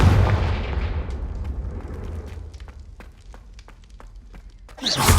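A Confringo blasting spell goes off in Hogwarts Legacy as a loud booming explosion whose rumble slowly decays over several seconds, with scattered crackling debris and a fresh burst near the end.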